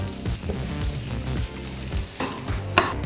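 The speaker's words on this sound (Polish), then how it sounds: "smażymy z czosnkiem" Slices of bread frying with garlic and butter in a pan give a steady, close sizzle, with a few louder crackles and stirring scrapes and no voices.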